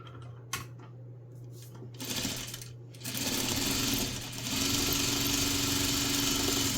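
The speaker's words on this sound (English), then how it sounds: "we're going to stitch right here 1/4 of an inch on our sewing machine" A sewing machine stitches a quarter-inch seam on quilt fabric, starting with a few light taps and short bursts, then settling into a steady, close, continuous whir of running stitches.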